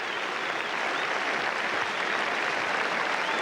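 Sustained crowd applause at Headingley during the 1976 England v West Indies Test, greeting Alan Knott's century; dense, steady clapping from a large crowd, loud and continuous throughout with no talk.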